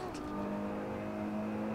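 A Ferrari 812 Superfast engine in the Assetto Corsa racing game holds a steady, loud droning tone, a continuous mechanical note with no pauses.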